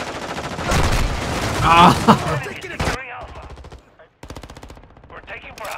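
Rapid automatic gunfire from a light machine gun in Call of Duty Modern Warfare II, loud close bursts with short pauses and a shouted voice in between.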